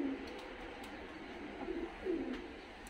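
Domestic fighting pigeons coo steadily at feeding time in Tbilisi, Georgia, their low throaty calls repeating over a constant background hum with no talking.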